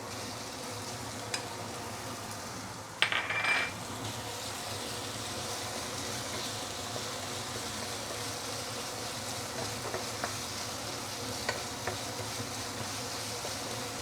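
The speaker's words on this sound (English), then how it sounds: "So we are going to saute the minced meat for a couple of minutes before we continue." Minced meat and spicy sambal with chili padi sizzle in a hot pan while being stirred, giving a continuous bright hiss with a brief scraping rattle near the start.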